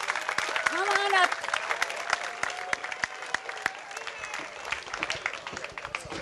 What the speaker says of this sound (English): Let's have a big round of applause for Peter.